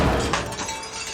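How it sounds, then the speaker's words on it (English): An urn crashes and breaks apart, with a burst of shattering fragments that trails off into scattered clatter, close and fairly loud. "And there goes my grandmother's urn."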